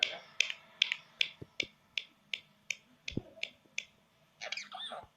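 A pet raw parrot mimics finger snapping with a rapid series of about a dozen crisp, close clicks at a steady rhythm, followed by a brief squawk-like chatter at the end.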